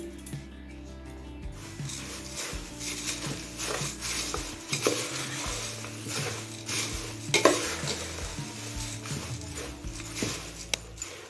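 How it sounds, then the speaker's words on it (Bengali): Puffed rice and spicy chanachur for street-style bhel puri are tossed together in a bowl, giving a dry, crisp rustling and scraping with irregular clinks of a spoon against the dish, close and moderately loud. "মুড়ি আর চানাচুরটা ভালোভাবে মিশিয়ে নিয়েছি"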